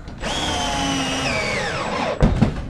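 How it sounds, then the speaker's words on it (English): Power drill driving a screw through a 2x4 patch into a travel trailer floor joist, a close whirring spin that winds down as the screw seats, followed by a couple of knocks. "He's putting a 2-foot piece of 2x4 across that with 8 screws"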